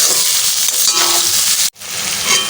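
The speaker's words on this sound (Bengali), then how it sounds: "এটাকে চারিদিকে মিশিয়ে ভাজা ভালো করে নিব" Ridge gourd and egg frying in a pan give a steady, close, dense sizzle that cuts out abruptly for a split second near the end before resuming.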